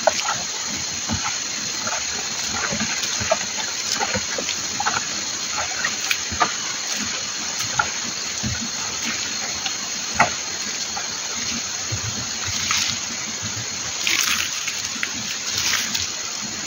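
Liquid is poured steadily over goat manure in an outdoor farm setting, a continuous splashing wash with small irregular spatters, fairly close and without talk.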